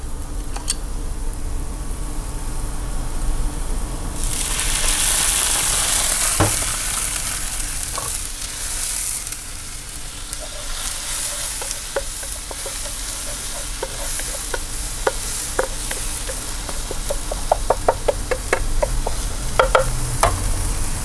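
Sake poured into a hot pan bursts into a loud hiss that fades into ongoing sizzling, with stirring scrapes and light clicks near the end.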